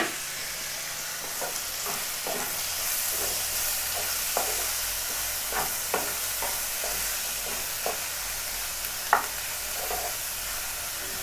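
Ivy gourd stir-fry being mixed with crushed onion and chilli in a hot pan, a continuous close sizzle with regular light scrapes and taps of the spoon, and no voices.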